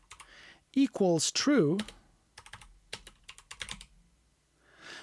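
Quick clusters of computer keyboard typing, light close clicks in short bursts around a man's brief spoken words.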